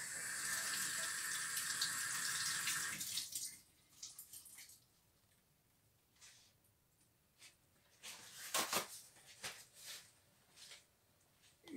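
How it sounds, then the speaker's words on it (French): Parsley is rinsed under a running kitchen tap, a steady splashing stream for about three seconds, then scattered drips, wet rustles and handling noises as the tap stops. "Je vais rincer mon persil."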